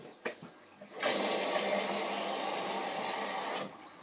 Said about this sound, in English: just let me put the kettle on again